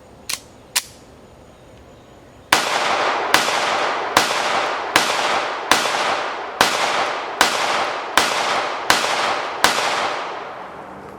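Gunshots from a Smith & Wesson Bodyguard 2.0 pistol at a shooting range: two sharp cracks, then after a pause ten loud, evenly spaced shots in a steady rhythm, each with a ringing decay, close and without talk.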